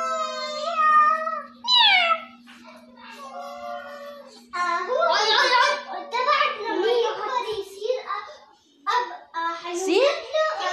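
A house cat gives a couple of drawn-out, close meows, followed by a child and an adult chattering over it with a few more soft cat sounds.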